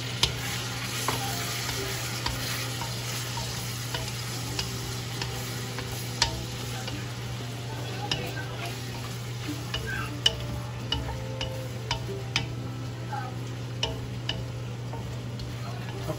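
Shrimp sizzle and fry in a pan for pancit guisado, a steady hiss with scattered ticks and scrapes as the spatula stirs, under a constant low hum.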